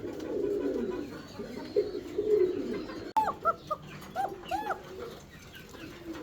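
A newly paired Basiraj fancy pigeon coos nearby in low, rolling calls. A brief cut is followed by several short, higher call bursts.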